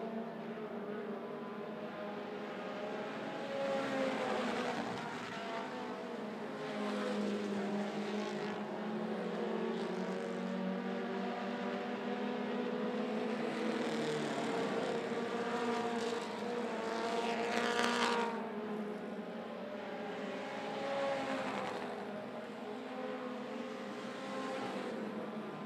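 Mini stock race cars lap 411 Motor Speedway, engines droning and rising and falling as packs pass at a distance, with a louder surge of passing cars midway through the continuous roar.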